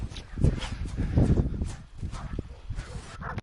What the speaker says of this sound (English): My dogs are going off right now.